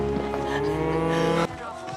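A cow lets out a long, loud, sustained moo close by, cutting off sharply near the end, with faint background sound after.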